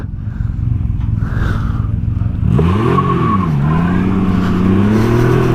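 A 2019 Can-Am Ryker three-wheeler launches hard off the start. The engine idles loudly, then revs surge and rise through gear changes with a sustained roar close by.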